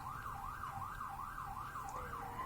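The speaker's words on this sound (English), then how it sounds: "Sorry about the siren in the background." A wailing siren rises and falls in a steady repeating cycle, faint and distant against a low background rumble.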